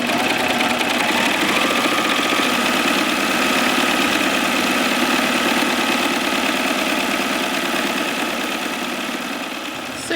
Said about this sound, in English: I'm going to take it to the serger, lay it down, and just serge along the edge